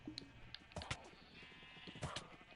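Sheep bleating in Minecraft, several short nasal bleats scattered across the moment at moderate volume, with no clear speech.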